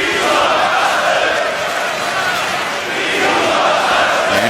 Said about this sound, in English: Manchester crowd